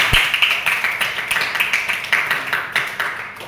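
A school class claps hands together in a steady, rhythmic run of sharp, fairly close claps, lasting throughout with little talk.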